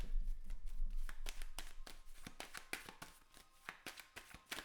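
Tarot cards shuffled by hand, a quick run of crisp riffling slaps and taps in an uneven rhythm, close and fairly quiet, with no talking.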